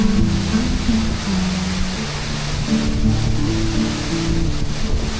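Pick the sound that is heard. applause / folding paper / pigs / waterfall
waterfall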